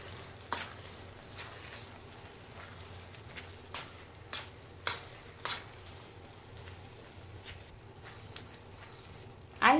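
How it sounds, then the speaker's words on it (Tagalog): Tuna is stirred into a thickened creamy pasta sauce in a pan, giving soft intermittent scraping taps over a quiet low simmer. The sound is faint and close, with a louder clatter at the end. "let's now add the tuna. Stir for a while."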